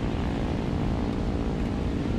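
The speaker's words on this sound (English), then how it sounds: "There is a plane" A propeller aircraft engine drones steadily in the combat flight game War Thunder, a continuous loud buzzing hum with no break or voices.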